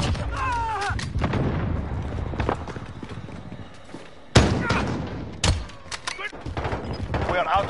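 Rapid bursts of gunfire and thudding impacts from a Call of Duty Warzone battle, loud and close, layered over constant game noise with radio-style voice callouts talking throughout.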